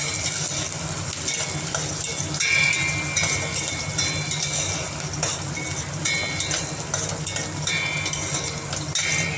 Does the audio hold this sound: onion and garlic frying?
yes